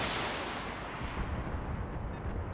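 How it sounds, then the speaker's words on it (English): A mech in a modded Battletech game looses a missile salvo: a loud rushing blast at the start fades into a rumbling, crackling tail of launches and distant impacts, with no voices. "I'm actually just going to fire the missiles."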